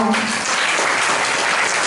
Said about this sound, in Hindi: एक बार यीशु के लिए जोरदार ताली बजाओ